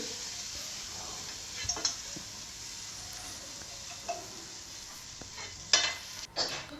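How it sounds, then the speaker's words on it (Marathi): A tempering sizzles faintly as it is sautéed in a pan. The low, steady hiss is broken by occasional light clinks of a spoon against the pan. "फोडणी परतून घ्यायची आहे छान"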